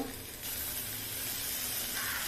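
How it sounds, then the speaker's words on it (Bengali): Poppy seeds being stirred into amaranth stems frying in a pan, a soft steady sizzle and hiss that swells after a brief quieter start, close and fairly faint, without speech. "পোস্ত দিয়ে একটু নাড়বো। পোস্তটা এরকম করে নাড়তে থাকতে হবে।"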